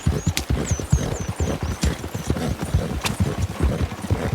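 Game horse in Red Dead Redemption 2 galloping through a winter endurance race, rapid rhythmic hoofbeats pounding steadily and close throughout, with a brief higher whinny-like cry and scattered bright clinks above.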